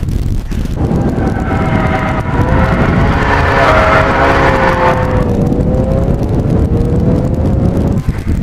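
A Lotus 340R sports car drives by, its engine a loud steady roar with a rising and falling tone that fades toward the end, heavy wind buffeting over it.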